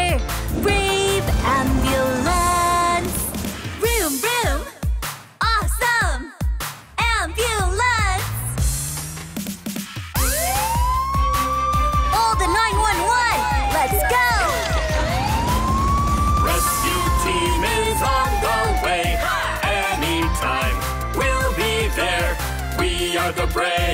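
A wailing siren rises and falls in long, loud sweeps, repeating steadily over background noise after a noisy, cluttered opening.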